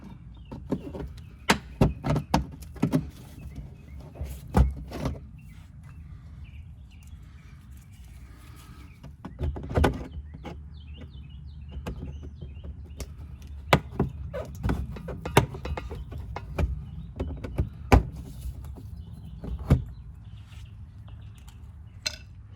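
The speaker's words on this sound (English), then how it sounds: "All right, let's remove these plastic pieces." Plastic trim pieces and clips being pried and pulled from the wheel well of a 2018 Toyota Yaris iA, with sharp clicks, snaps and knocks scattered irregularly over a low steady hum, close by and without talk.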